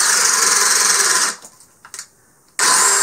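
A DeWalt brushless drill bores into pressure-treated wood with a loud, high whine, stalls with brief bumps and near-silence for about a second, then spins up again just as loudly.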